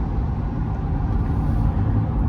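A Ford Super Duty pickup cruises steadily in 10th gear at about 1800 RPM, giving a continuous low engine and road rumble with no change in pitch.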